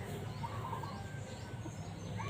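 Birds call softly in the distance over a steady outdoor background hum, with a few faint cooing and chirping notes scattered through.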